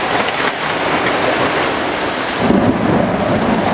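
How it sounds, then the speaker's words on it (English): Heavy rain pours down steadily during an unforecast tropical thunderstorm, with a deep rumble of thunder rolling in partway through, loud and close. "I'm going to relish this totally unforecast, wonderful thunderstorm"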